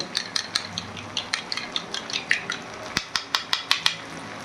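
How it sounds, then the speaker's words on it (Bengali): A spoon rapidly whisks sour yogurt in a bowl, making a quick, steady run of light clinks and taps against the sides. The strokes are close and clear, with no talking. "টক দইটা ভালো করে আমি ফেটিয়ে নেব"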